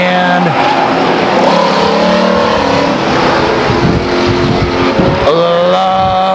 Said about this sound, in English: Lovelace into 3 now, followed by McCall in the 17 car